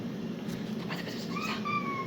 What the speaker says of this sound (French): Ah, chat.